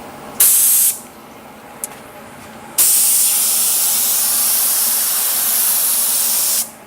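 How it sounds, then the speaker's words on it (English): A spray gun sprays activator at about 17 to 18 psi, hissing in short bursts: first a brief spray, then a quick puff, then a long steady blast of pressurized mist close up. "We spray activator at around 17, 18 psi."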